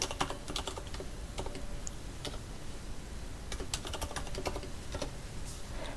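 Rapid keystrokes on a computer keyboard while entering data in an Excel spreadsheet, irregular bursts of close clicking taps with brief pauses, no voices.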